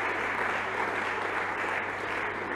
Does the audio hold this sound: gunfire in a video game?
no